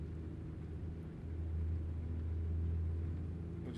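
A 600-horsepower International 9900i truck engine in a trucking video game rumbles low and steady, swelling deeper and louder about a third of the way in as it pulls harder.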